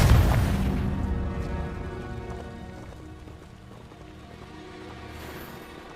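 A Confringo spell explodes in Hogwarts Legacy with a loud, deep boom up front, then a long rumbling crackle that slowly fades with game ambience beneath.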